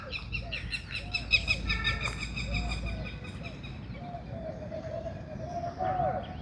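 Morning birdsong in a park, with cooing doves and scattered chirps and calls layered over a steady, busy outdoor background.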